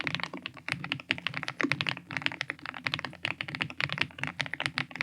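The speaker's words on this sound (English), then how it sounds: "If you're just looking for a simple productivity keyboard without any fancy knobs, screens, or both, and sounds as screamy as this" Typing on an Epomaker TH99 mechanical keyboard fills the whole stretch with rapid, crisp clacks and thocky key strikes, close and steady, with no talking.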